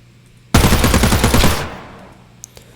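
A loud burst of rapid automatic gunfire from Apex Legends lasts about a second and fades into a reverberant tail, followed by a couple of faint hit-marker clicks.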